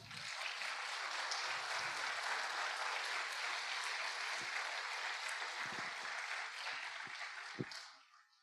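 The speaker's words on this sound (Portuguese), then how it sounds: "Você pode aplaudir Jesus?" Sustained applause from a church conference audience, steady dense clapping throughout that fades out at the end, with no talking over it.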